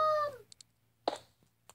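A cat meows in the Minecraft video game, one clear drawn-out call up front followed by a few short faint chirps and a louder brief second cry, over a low steady hum.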